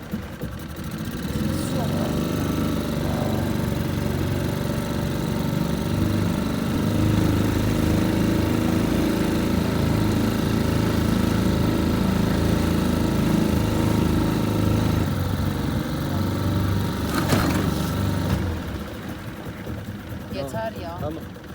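A boat engine runs steadily at a raised idle with slight throttle for a long stretch, a loud continuous droning hum, with brief voices talking over it near the end.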